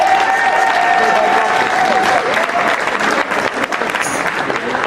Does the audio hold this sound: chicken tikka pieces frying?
no